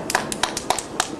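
Several people clap at a family Diwali gathering, producing quick irregular claps close by, about eight in just over a second.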